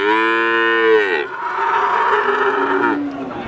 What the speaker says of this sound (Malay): Update harga sapi terbaru dari Pasar Sapi Wakinan Margorejo Pati bersama Kang Sultan Mursid.